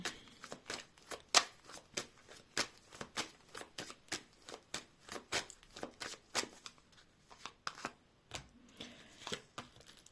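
Tarot cards shuffled close up in quick repeated riffles and taps, a crisp rhythmic flutter with brief pauses between bursts.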